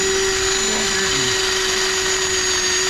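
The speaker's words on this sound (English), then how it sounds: "you want to just drill through each one of them" A power drill bores through the rivets holding a lower ball joint on a Ford Focus, giving a loud, steady whine that runs unbroken from start to finish.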